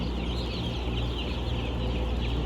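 A large flock of chicks in a poultry house, part of an 82,000-chick batch, keeps up a dense, steady chorus of overlapping peeps and clucks that continues without pause.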